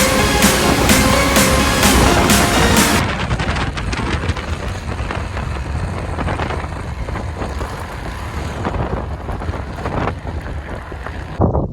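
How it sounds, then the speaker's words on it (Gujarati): Strong wind gusting outdoors near a hut in a rural field during a stormy hot-season spell, a loud, steady roar buffeting the microphone for the whole stretch, with no speech. "પવન બહુ ઉપડી ગયો છે ને એના કારણે મારો અવાજ આવતો કે ન આવતો"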